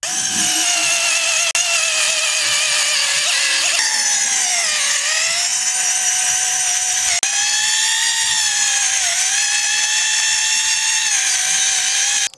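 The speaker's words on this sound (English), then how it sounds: "The trick is for the drill bit to pass exclusively under the bark" A loud, continuous power drill whine runs for several seconds, pitch dipping slightly as the bit bores into wood just under a tree's bark for grafting, with no talking.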